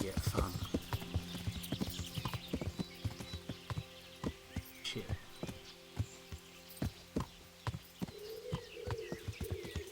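Horse hooves clip-clop steadily in the video game Kingdom Come Deliverance, a brisk regular rhythm of close hoofbeats throughout, with a few faint whinny-like sounds and a voice speaking briefly over them.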